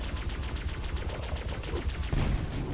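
Rapid bursts of gunfire fill a Halo: Combat Evolved firefight, a dense, steady rattle of shots with a louder, heavier blast near the end.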